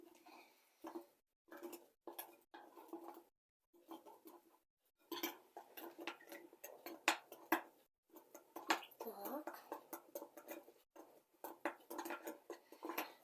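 Honey cookie dough being mixed with flour in a bowl: a quiet, irregular scraping and tapping in uneven bursts with short pauses, under a speaking voice.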